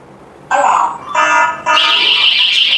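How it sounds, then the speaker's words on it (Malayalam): A loud electronic security alarm blares nearby in three abrupt bursts, each a harsh buzzing tone at a different pitch, the last continuing without pause. "ഒരു അലാം ജനറേറ്റ് ആവുകയും അത് നമുക്ക് സൈറൺ വഴി കേൾക്കാൻ പറ്റും"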